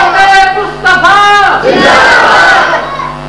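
A large crowd at a religious gathering on the life of the Prophet in Hafizabad shouts a loud, drawn-out chanted reply to a slogan, several swelling voiced cries in unison, close and powerful.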